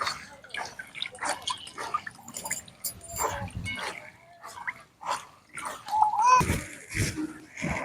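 Chicken skin is washed under water and drained in a basket, with uneven splashing, running and dripping sounds that start and stop in bursts. Faint background voices are heard.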